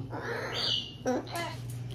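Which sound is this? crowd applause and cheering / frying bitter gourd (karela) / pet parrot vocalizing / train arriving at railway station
pet parrot vocalizing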